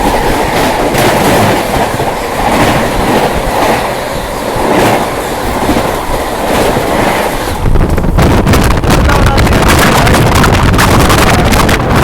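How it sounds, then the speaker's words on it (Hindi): The Seemanchal Express, bound for Jogbani terminal, rolls past on a busy Delhi section, its wagons rattling with a steady loud clatter and a rush of wind noise that builds near the end. "तो अभी भी ट्रेनों का काफिला चल रहा है। और ये आई सीमांचल एक्सप्रेस टर्मिनल जोगबानी।"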